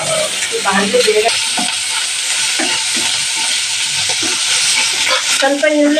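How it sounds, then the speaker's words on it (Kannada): Onions with garlic and green chillies stir-fry in a pan, giving a close, continuous oily sizzle with scraping spoon strokes and scattered clinks throughout. "ಸ್ವಲ್ಪ ಈರುಳ್ಳಿ ಫ್ರೈ ಆಗಬೇಕು"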